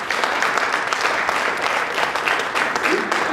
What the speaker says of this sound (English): I want you to give them a big round of applause.